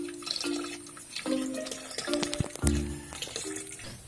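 Water splashes and gurgles as it fills the tank of a knapsack manual sprayer, pouring in uneven bursts with rising hollow tones and scattered drips, close by and moderately quiet.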